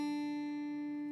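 A single low guitar note rings out steady and sustained, a deep open string tuned down to D left to resonate on its own.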